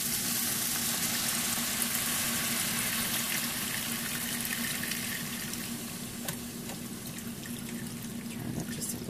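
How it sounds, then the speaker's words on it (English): Beef broth poured into a cooked flour roux for mushroom gravy, a steady loud sizzle and bubbling liquid rush lasting throughout with no talking. "I'm going to add my beef broth."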